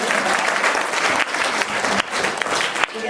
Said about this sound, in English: You get applause.